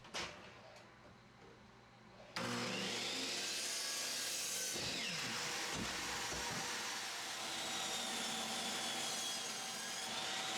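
A table saw rips a length of 2x3 lumber, a loud, continuous high whine of blade cutting wood starting abruptly after a quieter spinning lead-in, with a brief dip midway before the cut continues steadily.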